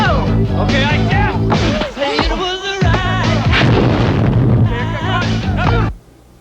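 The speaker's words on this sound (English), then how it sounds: "what's happening is the explosion's happening way too late" An explosion sound effect plays within an edited film sequence on a 1989 Avid/1 editing system, loud and dense under a busy musical soundtrack, with layered booms and bursts running continuously for about six seconds before cutting off abruptly.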